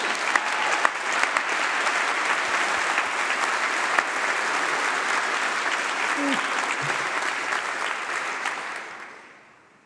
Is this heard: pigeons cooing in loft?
no